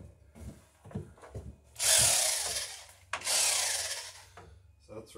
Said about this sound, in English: hope we got the drill out.